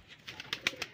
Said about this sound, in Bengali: এটা জুমলা কবুতর